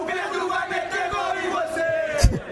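Football crowd welcoming striker Pedro, a dense mass of fans chanting a song together in rhythmic, sustained voices, loud and near, with a sharp burst of noise near the end.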